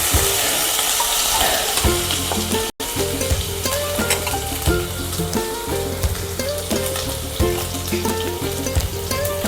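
Garlic and hand-torn curry leaves crackle and sizzle steadily in hot oil for a spicy tempering, a dense continuous frying hiss, close and loud, with no talking.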